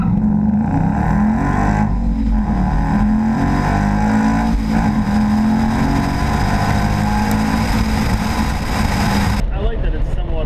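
Loud, continuous engine roar from a 2013 RTR Mustang with a centrifugal supercharger, revving steadily near the listener with voices talking over it.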